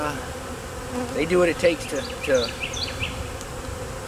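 Honey bees buzzing steadily around a hive in a vertical split colony, a close, continuous drone of many wings that swells briefly mid-clip, with a voice speaking faintly over it.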